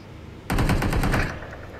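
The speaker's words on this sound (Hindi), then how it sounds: "सामने गोलियां चल रही भाई" A sudden, loud burst of rapid automatic gunfire in the battle royale game PUBG Mobile, about eight close shots in quick succession lasting under a second, then a short fading echo with no talking.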